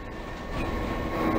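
A GE U-boat locomotive runs down the line in the Roblox game Train Wrecker, giving a steady, loud rumble of rail noise with a faint tonal hum that builds slightly toward the end.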